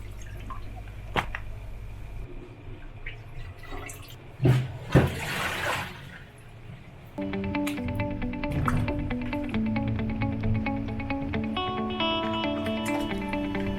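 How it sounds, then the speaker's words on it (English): Water splashes and drips intermittently as raw camel meat is washed under running water, with a louder gush in the middle, followed by a steadier hum and clinking underneath. "First wash the meat properly."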